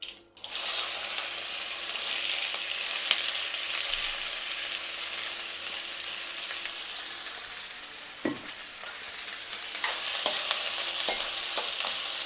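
Five sliced onions frying with mustard seeds in a pan give a steady, close sizzle with occasional stirring scrapes and clatter, a few louder knocks near the end, and no talk.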